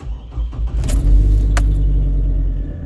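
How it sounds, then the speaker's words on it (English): A four-wheel-drive truck engine starts with a brief crank, then settles into a steady, loud low idle rumble close by, with a few small clicks at the start. "From here, I'm going to start the truck"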